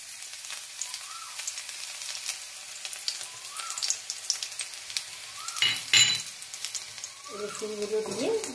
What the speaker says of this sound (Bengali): আর কড়াইতে সর্ষের তেল গরম করেছি। এর মধ্যে রসুনগুলো দিয়ে